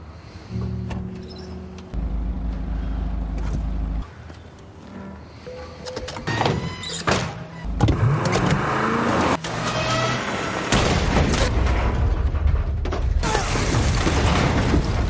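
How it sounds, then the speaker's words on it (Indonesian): A car in a film chase scene as the driver floors the gas, engine revving and roaring in surges amid clunks, creaks and mechanical rattles, loud and close, shifting between rising engine swells and jarring impacts. "dengan cara menancapkan gas mobilnya"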